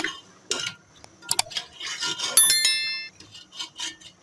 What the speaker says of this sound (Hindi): मीडियम टू लो फ्लेम पे हमने इसको भूनना है अच्छी तरह से।